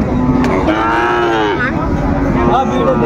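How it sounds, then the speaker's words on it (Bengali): A Sahiwal bull gives a long, loud, drawn-out moo close by, followed by a second, shorter moo. "শাহিওয়ালার ষাঁড়"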